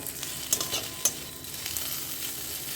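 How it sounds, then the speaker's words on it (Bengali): Onions fry in a pan with a soft, steady sizzle, broken by a couple of sharp utensil clicks from stirring. Quiet and close, with no talking. "দেখো পেঁয়াজগুলো সিমিয়ে দিয়ে দেখো ভাজা ভাজা হয়ে গেছে।"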